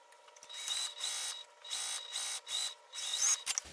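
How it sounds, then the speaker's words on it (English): A home sewing machine stitches a seam along the edge of a fabric basket base, its motor whirring in a series of short and longer bursts with brief pauses between runs. "sewing along that edge with the seam allowance given the pattern"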